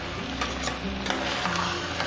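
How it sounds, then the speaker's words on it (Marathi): Rice and vegetables are stirred in a pan with a light sizzle underneath, giving a continuous soft scraping and shuffling sound at close range. "मिक्स करून घ्यायचा"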